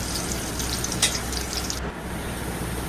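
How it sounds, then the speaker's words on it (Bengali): Onion, bay leaf, cinnamon, cloves and cardamom frying in oil for beef khichuri, a steady close sizzle with a brief clink of utensils. "ভালো করে ভেজে নিতে হবে।"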